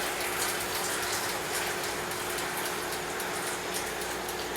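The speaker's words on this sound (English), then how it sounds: "Then I gently just pour right back on top." Homebrew wort is poured gently back over a thick grain bed in an all-grain brew, giving a continuous splashing, trickling gush of liquid, close and steady with no talk.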